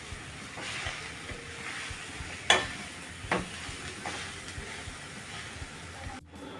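Chopped spinach being stirred into dal in a pan, a soft continuous scraping with a couple of sharper clinks of the spoon against the metal, fairly quiet and with no voices.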